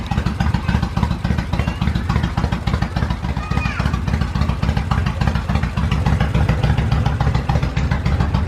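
A motorcycle with Vance & Hines pipes, bought with mechanical damage, runs steadily nearby with a loud, throbbing, slightly clattery rumble that carries on without pause.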